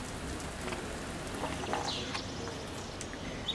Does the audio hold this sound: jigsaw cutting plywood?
no